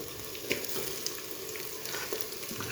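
Chopped tomatoes and green chilies sizzle in a hot pan with a dense, steady frying hiss, punctuated by occasional spoon scrapes and stirring clinks, heard up close.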